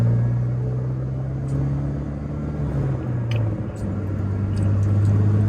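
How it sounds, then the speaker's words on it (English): Pontiac Solstice GXP turbocharged roadster driving, a steady low engine drone with a sustained tone that shifts pitch midway, continuous and close, no talk over it. "you can hear a little bit of the turbo spool."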